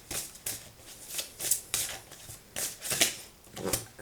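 Oracle cards shuffled by hand during a card reading, a series of crisp riffling bursts repeating about every half second, close and moderately loud, with no speech.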